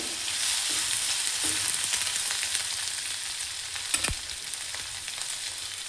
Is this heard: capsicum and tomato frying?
yes